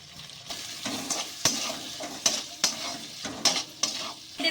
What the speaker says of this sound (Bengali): এবার মাছগুলোর সঙ্গে সুন্দর করে কষে নেব